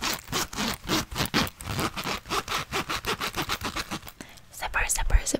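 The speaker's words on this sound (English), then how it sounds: "These ones have zippers." Zippers on mittens pulled back and forth close up, a rapid run of rhythmic rasping strokes about five per second, under soft whispering.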